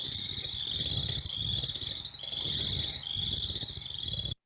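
Chorus frog calling in a sustained, high-pitched trill that pulses slightly over several seconds, moderately faint with low rumbling background noise and no speech.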